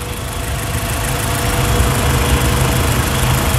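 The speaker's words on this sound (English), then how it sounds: "I'm gonna rev it up a little bit" A car engine running during coolant bleeding with the thermostat open. It gives a loud, steady close drone that swells slightly as it is revved a little, with no talking.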